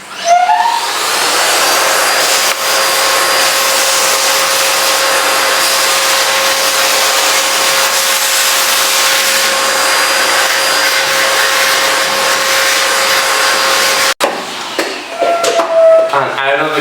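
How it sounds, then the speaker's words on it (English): A Hoover vacuum cleaner runs with a loud, steady whooshing roar and a whining motor hum for about fourteen seconds, then cuts off, leaving brief scattered sounds. "You turn on the Hoover."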